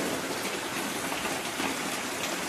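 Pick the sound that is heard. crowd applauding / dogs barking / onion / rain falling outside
rain falling outside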